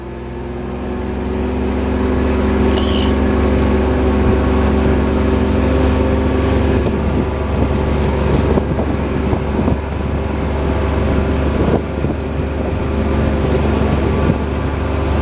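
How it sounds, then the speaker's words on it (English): A Kubota tractor engine with a worn alternator belt drones steadily and loud, a constant low mechanical hum with wind noise and no talking. "sounds like the belt on the alternator on the Kubota needs a little refreshing"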